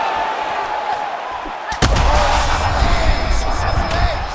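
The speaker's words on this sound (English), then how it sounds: "Big uppercut." A heavy punch lands in the UFC 5 video game as an uppercut in a women's title fight, a single sharp thud near 1.8 seconds that cuts through crowd noise and a commentator's voice.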